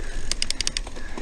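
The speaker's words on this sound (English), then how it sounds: "Some gears." A bicycle shifting gears on a lake trail: a quick run of about six sharp, close mechanical clicks over steady riding noise.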